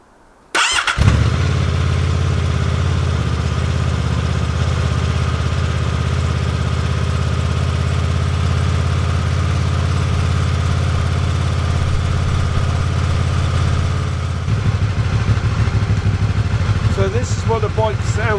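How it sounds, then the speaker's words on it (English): A Honda VFR800 Crossrunner motorcycle fitted with an Akrapovic exhaust cranks and catches, then settles into a steady, loud, close idle with a deep throbbing rumble that shifts slightly near the end. "So first let's start the bike and see what it sounds like with it"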